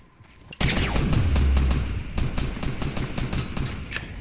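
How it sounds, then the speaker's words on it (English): A sudden loud explosion-like blast opens a burst of rapid automatic gunfire in a Fortnite match, followed by a trailing series of sharp shots at close range, with no speech over it. "I'm getting shot at from behind now, too."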